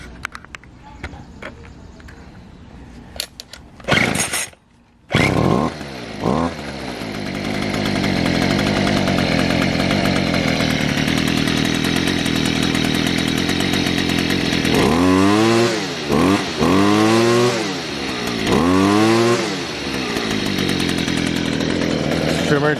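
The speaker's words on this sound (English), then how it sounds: "I'll start this trimmer up and show you how it runs." A McCulloch Eager Beaver 327 string trimmer is pull-started, then its small two-stroke engine runs with a loud buzzing idle, and it is revved up and down in several rising and falling bursts.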